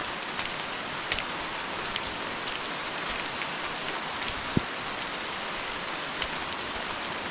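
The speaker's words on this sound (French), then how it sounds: "Il pleut toujours." Steady rain falls through a Martinique rainforest on a muddy trail, a dense even hiss of drops with occasional closer taps, constant and moderately soft throughout.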